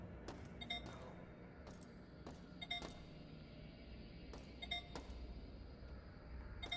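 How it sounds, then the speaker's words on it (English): Repeated electronic beeps from an explosive device in the System Shock Remake, short bursts recurring at irregular intervals over a steady low game ambience, fairly faint. "Usually beeping means, like, explosives."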